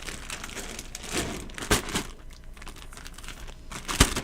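Faint crinkling and rustling of a plastic bag holding water beads, soft irregular crackles with a couple of sharper crunches, close by and quiet.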